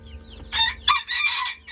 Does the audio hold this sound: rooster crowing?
yes